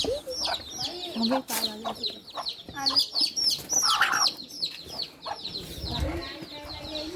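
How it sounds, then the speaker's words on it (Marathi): Chickens cluck and chatter in short irregular bursts nearby at Trimbakeshwar, Nashik, with a few faint voices and outdoor background noise around them. "कोंबडी"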